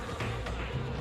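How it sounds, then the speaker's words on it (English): Bees buzz in a video game, a dense, continuous insect drone that fills the short moment at a steady level with no voices over it. "why is there bees?"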